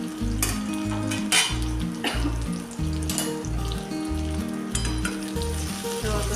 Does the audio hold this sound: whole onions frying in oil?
yes